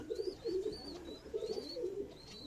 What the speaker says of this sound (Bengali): এই কবুতরটা নর।